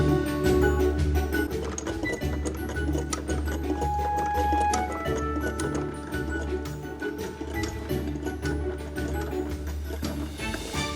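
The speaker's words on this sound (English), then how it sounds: "I want to sew everything together on my hand crank sewing machine" A hand-cranked sewing machine clatters steadily in a rapid mechanical rhythm, close by, with no talking.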